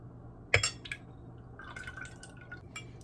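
Fresh lime juice and ginger syrup pour into a cocktail, starting with a sharp splash and then a few light drips and trickles against glass in a quiet setting.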